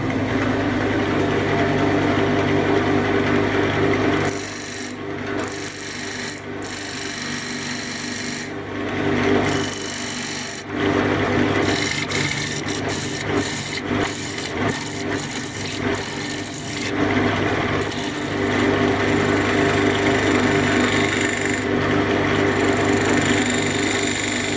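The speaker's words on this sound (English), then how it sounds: "Obviously I've just got to square it up a bit with the square scraper" Square scraper cutting a sycamore crotch blank on a woodturning lathe, giving a steady rasping scrape over the lathe's constant hum, with brief pauses and a few sharper bursts as the tool is lifted and reapplied.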